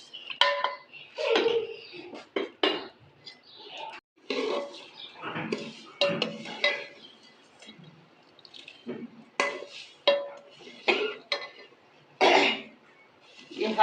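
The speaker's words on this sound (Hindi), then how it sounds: "मुझे तो खांसी है" Repeated coughs and throat clearing from an elderly woman cooking semolina halwa in a home kitchen, mixed with clinks of pots and utensils, fairly close and in uneven bursts.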